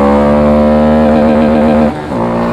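A Honda Grom motorcycle engine revs loudly and close by, a steady buzzing drone that holds its pitch before dipping briefly and climbing back near the end.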